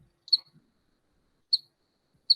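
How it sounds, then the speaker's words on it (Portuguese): A recorded cricket courtship song: three short, high-pitched chirps spaced about a second apart, crisp and isolated against near silence. "E esse aqui é o canto de corte,"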